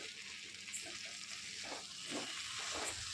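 Yam pieces fry in a pan of oil with a steady, soft sizzling hiss, and a few brief stirring scrapes rise and fall near the end.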